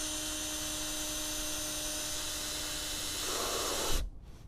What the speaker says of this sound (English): you want to run the drill backwards